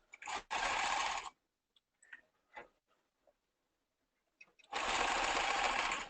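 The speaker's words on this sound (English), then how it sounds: "I'm actually going to just put a bar tack right across the stitch line, and I'm going to put one on either side of it." A sewing machine stitching bar tacks across the stitch line on a men's ballet tunic hem: two close, loud bursts of rapid stitching separated by quiet handling clicks and rustles.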